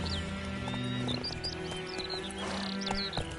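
Horse galloping in Witcher 3, rapid clip-clop hoofbeats in a steady rhythm with a short neigh, close and clear over a light game background.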